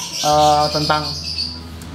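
A Balibu lovebird that has been fed cabbage lets out one loud, harsh squawk close by, then a few shorter clipped calls, all within about two seconds.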